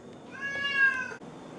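A Bengal cat gives a single drawn-out meow in a kitchen, close and clear, rising and falling over about a second before cutting off, with a quiet room behind it.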